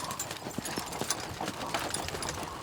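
Horse hooves clip-clop on the dirt of the Oregon Trail during a wagon-train ride, an uneven string of soft, fairly close hoofbeats over outdoor background noise.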